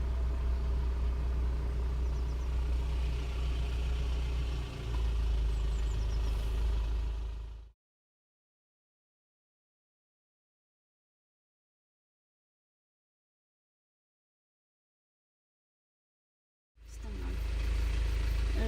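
A car engine idles at a campsite barrier, a low steady rumble close by that cuts out to silence for several seconds before resuming.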